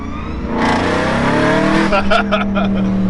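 An Audi RS5 (B8.5) with an aftermarket Eventuri intake accelerates hard nearby, revving up with a rising growl and some crackle, loud and continuous for a few seconds.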